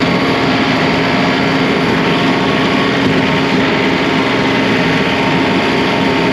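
A tractor runs a Woods M5 brush hog across a 5.8-acre field, giving a steady, loud, unbroken engine and mower drone with no pauses and no talk.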